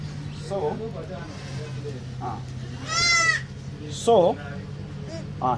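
Newborn goat kids bleat repeatedly while being set on a weighing scale, loud wavering cries near and far over a steady farm hum, with people talking and a rooster faintly in the background.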